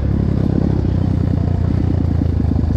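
A CRZ 250 motorcycle idles close by through an Akrapovic-style exhaust cartridge, a loud, steady, rapid thumping rumble with a fast even pulse.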